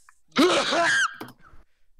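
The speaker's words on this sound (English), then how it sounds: "I just sneezed" A single sharp human sneeze bursts out loud and close, with a short voiced build-up and explosive release, followed by faint shuffling and a brief breathy trailing noise, with no talk.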